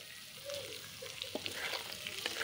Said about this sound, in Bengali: মাছগুলো আমি একেবারে লাল লাল করে ভেজে নিলাম